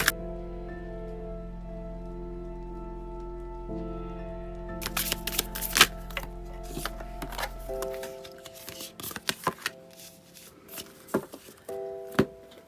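Sacred Self-Care Oracle cards are riffled and shuffled by hand, a quick run of soft papery flutters and taps up close, with a steady low tone fading out partway through.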